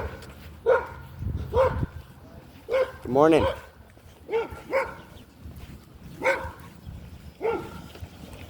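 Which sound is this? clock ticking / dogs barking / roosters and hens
dogs barking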